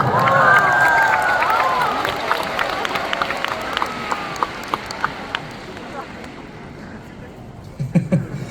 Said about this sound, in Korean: 네, 박수 한번 부탁드리겠습니다.